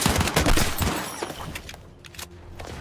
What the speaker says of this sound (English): You have the infantry layer, where teams exchange gunfire on foot.